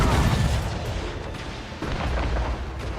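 Heavy booming mortar fire from a sailing warship in Assassin's Creed Rogue, a continuous loud rumble of blasts with one sharper report partway through.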